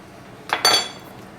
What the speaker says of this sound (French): On mélange bien tout, on récupère bien toute la petite marinade.